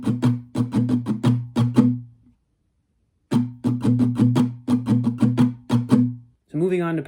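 Acoustic guitar strumming a repeated rhythmic pattern for an arrangement, steady strokes in two bursts with a brief pause between, ending as a voice begins talking.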